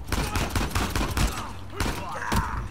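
Gunfire in the video game Uncharted 4: rapid bursts of shots crackle loudly and close, a fast rattling volley followed by a few separate sharp reports, with no speech over them.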